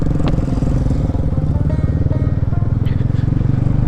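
A motorcycle carrying a passenger on a road trip toward Danau Ranau in Indonesia, its engine droning loudly and steadily throughout at close range, with wind rumble and no talking.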